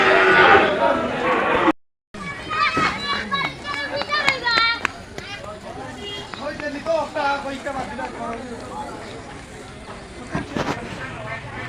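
Cattle lowing at a crowded Eid cattle market in Gobindaganj, Sunamganj, with long drawn calls repeating among constant chatter from buyers and sellers and children's voices.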